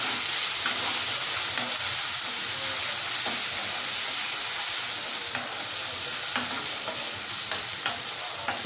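Ginger paste frying in oil as the base for a mushroom curry, a continuous close sizzle with occasional faint stirring clicks throughout.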